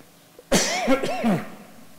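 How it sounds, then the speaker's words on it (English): A single loud, close cough bursts out after a quiet moment during a church service, with a rough tail that fades away. "I'm going to keep coughing into it"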